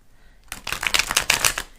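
Tarot cards from the Gilded deck shuffled and handled by hand, a quick run of close crisp riffling flicks that starts abruptly after a brief hush and lasts about a second.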